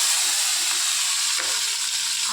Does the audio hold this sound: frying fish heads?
yes